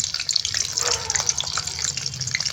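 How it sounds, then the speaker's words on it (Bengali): Whole garlic cloves dropped into hot oil for a Bengali tempering while cooking sour susni greens, giving a steady hissing crackle throughout, close and fairly loud. "তেলটাও গরম হয়ে গেছে, দিয়ে দেবো রসুনটা ফোড়ন।"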